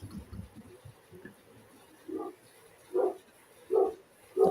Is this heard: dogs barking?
yes